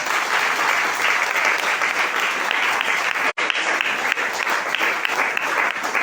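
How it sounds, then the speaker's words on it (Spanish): A church congregation claps loudly and continuously for the Lord during a Spanish-language sermon, a dense, roomy wash of many hands with a momentary dropout partway through. "Dale palmas al Señor."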